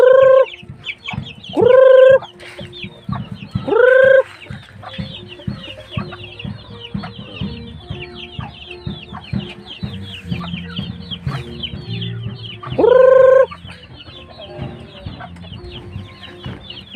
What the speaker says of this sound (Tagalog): alaga namin, mga manok.